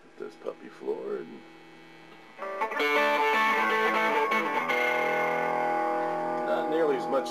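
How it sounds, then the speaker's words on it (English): Electric guitar on the neck pickup through an 808 overdrive pedal and a Crowther Hot Cake, following a few seconds of speech with a sustained, moderately driven chord ringing out loudly and decaying slowly. "It's still basically an overdrive, the 808 is."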